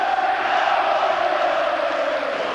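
Roar of about 20,000 Middlesbrough and Newcastle football supporters cheering at a 1990 final-day match, a dense, steady crowd wash holding loud and unbroken throughout.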